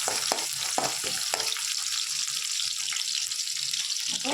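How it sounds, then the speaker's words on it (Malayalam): Small chopped shallots sizzle in hot oil with fenugreek seeds in a pan for a taro curry, a steady bright frying hiss after a few sharp knocks at the start. "ഞാൻ കുറച്ച് ചെറിയ ഉള്ളി ചെറുതായിട്ട് എടുത്തത്, ഒരു ചെറിയൊരു ഉള്ളി നല്ല ഒന്ന് മൂക്കട്ടെ"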